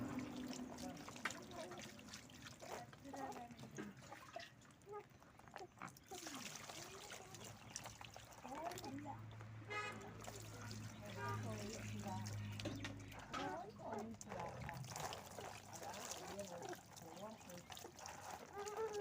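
Water is poured and splashes while a three-month-old baby is bathed, trickling and splattering close by under steady talk from adults.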